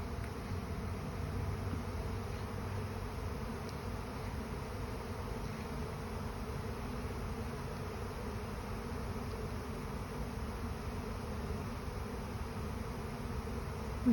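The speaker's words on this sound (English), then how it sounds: "bees have been scouting it all day. They've been scouting my carport and now they have chosen this hive box" Bees swarm in and settle into a hive box under a carport, a dense, steady droning hum that holds evenly throughout, fairly close and moderately loud.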